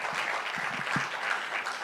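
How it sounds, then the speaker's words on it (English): An audience claps steadily for a guest of honor, actor Aamir Khan, at a public event, a dense continuous patter of many hands with a few louder individual claps standing out. "Can you all continuously clap for him, please?"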